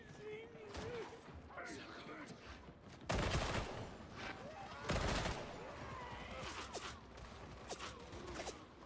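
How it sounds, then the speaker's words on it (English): Two loud, sharp bursts of gunfire in Warhammer 40K Darktide break through a quieter game scene, while a person talks over the low background. "What the fuck is shooting at me?"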